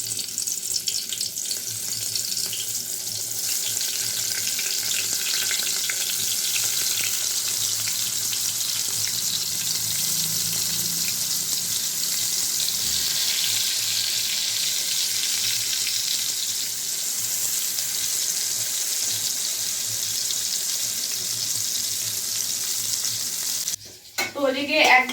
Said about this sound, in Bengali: এখানে একটু বেগুন ভেজে নিচ্ছি